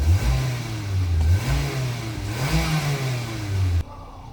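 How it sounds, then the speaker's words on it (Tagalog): The engine of a 2024 Mitsubishi Xpander revs up and down in repeated swells, close and steady, then cuts off abruptly near the end. "At tingnan natin yung acceleration niya."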